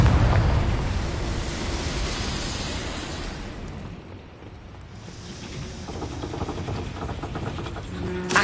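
A Confringo fire spell blasts in the video game Hogwarts Legacy, a loud rumbling explosion with a long roaring tail that fades out, then crackles back up near the end.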